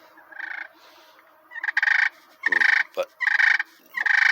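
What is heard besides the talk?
slate turkey call purring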